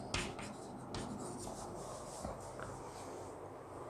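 Chalk or marker scratches chemical formulas onto a board in a short run of faint rubbing, tapping strokes, quiet and close, with no talking over it.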